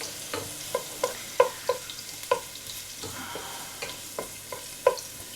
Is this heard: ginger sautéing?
yes